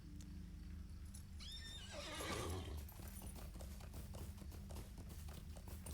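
A horse neighs as a mount is summoned in the online game Lord of the Rings Online, a bright whinny rising over steady game ambience and music, followed by rhythmic clip-clop hoofbeats.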